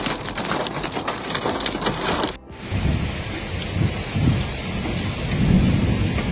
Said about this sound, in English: There, lightning struck frequently while gusts of wind tore branches and roofs.